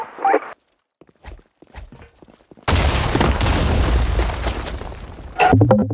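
A grenade blast in the online shooter BlackShot booms out as a loud, broadband explosion that rumbles and hisses for a couple of seconds after a quieter stretch of scattered game effects, then a sharp impact follows.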